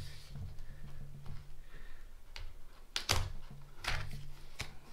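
A knife slices into the packaging of a Voltbox charger up close, with a few sharp scraping cuts and clicks against quiet background and no talking.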